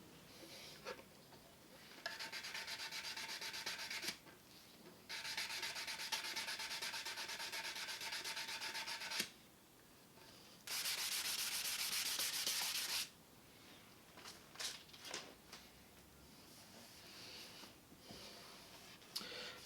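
Sandpaper rubbed over the lacquered body of a Fender Stratocaster, close scratchy strokes in several sustained bursts separated by short pauses and softer scuffing.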